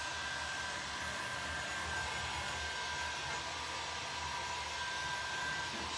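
A heat gun drying fresh blue paint on an old cabinet blows a steady, loud, even whoosh of hot air that holds without a break from start to finish, with no one talking over it.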